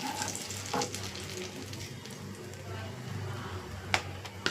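Cardamom pods, a piece of cinnamon and cloves crackle and sizzle in melted butter in a pan, a steady close frying hiss with a few sharp pops near the end, under light background noise.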